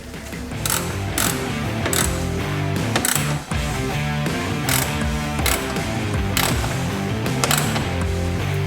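A ratchet clicks in quick repeated runs, each burst of clicking followed by a brief pause, while bolts are tightened during reinstallation of AC parts on a 2012 Subaru Forester.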